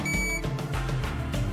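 A short electronic beep from a hotel door lock as a system card is read, rings out at the start, a steady high tone over a busy background.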